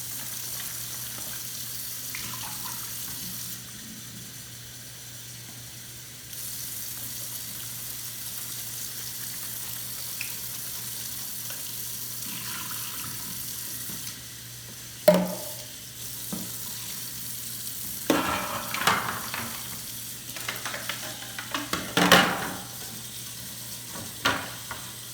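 Dirty Hoover vacuum parts are washed with dish soap under a running kitchen tap. A steady hiss of water plays through most of the clip, joined near the end by closer splashes and clattering as the parts are handled.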